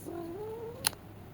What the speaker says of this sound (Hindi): ये हमारी लैब में एक बिल्ली आती है, तो वो इधर